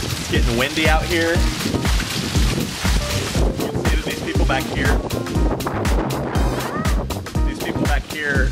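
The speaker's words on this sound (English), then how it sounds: "The wind is definitely starting to pick up." Strong wind from Hurricane Irma buffets the microphone with rough, continuous rushing noise while a person talks over it.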